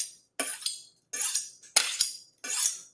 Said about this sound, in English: we're going to go ahead and sharpen our knife